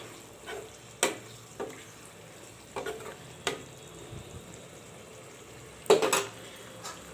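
Peas and fresh coriander land in a pan of potato, brinjal and tomato curry, giving a few soft stirring scrapes and light clinks spread across a quiet, low sizzle.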